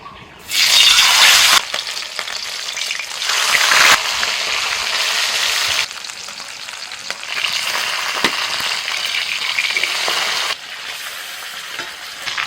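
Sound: fish frying in mustard oil in a wok

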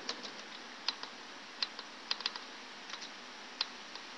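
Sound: typing commands on a computer keyboard

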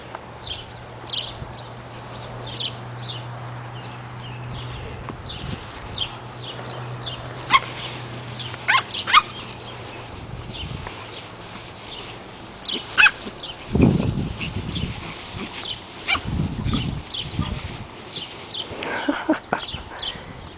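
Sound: dog barking and whimpering

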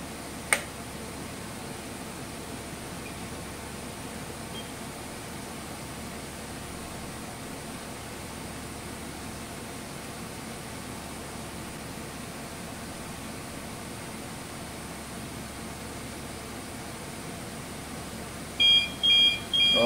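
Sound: ship off course alarm beeping

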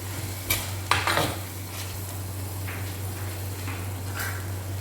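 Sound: squid being sautéed and stirred in a pan

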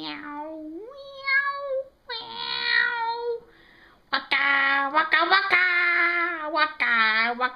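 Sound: cat meowing

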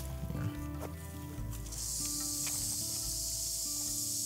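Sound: snake making cicada-like buzzing sound

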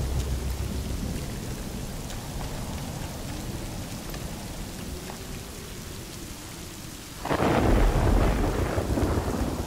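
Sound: thunder in video game Rainbow Six Siege

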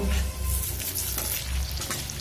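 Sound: drumstick flower pakoras frying and being turned in oil

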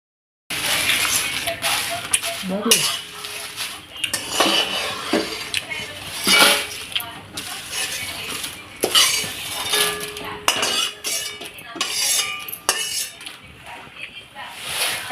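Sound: bay leaves and spices roasted in oil, stirred in pan

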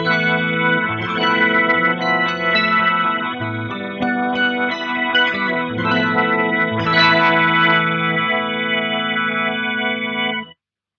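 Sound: Electro-Harmonix C9 pedal organ effect, 100% organ signal

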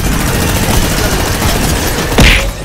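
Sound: minigun gunfire in a video game

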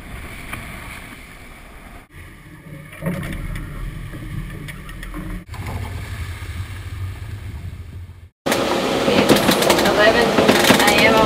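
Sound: water rushing along sailboat hull

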